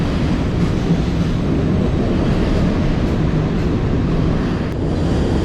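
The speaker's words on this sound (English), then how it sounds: "All right, there's the train. I caught it." A loud, continuous rumbling roar holds steady throughout as a train rolls past close by near Hope Memorial Bridge in Cleveland, Ohio, with no voices.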